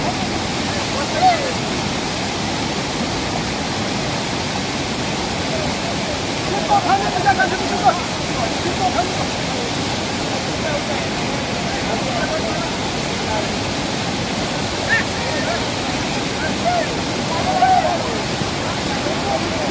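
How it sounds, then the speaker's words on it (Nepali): A swollen rainy-season river rushes loudly and continuously as a wedding procession wades across, a broad steady roar with faint voices in the background. "जन्तीहरूले खोला तरिरहेको अवस्था छ यति बेला कृषि खोलामा"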